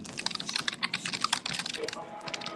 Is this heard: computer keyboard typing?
yes